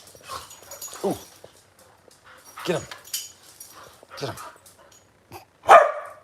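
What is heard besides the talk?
puppies wrestling, whimpering and barking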